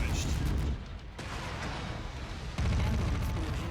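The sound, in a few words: ammo explosion in a mech video game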